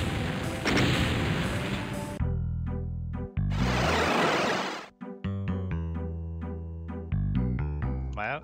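Shotgun fire in a Doom WAD, two loud blasts with heavy noisy bursts, among synthetic tonal game music and effects, close and punchy.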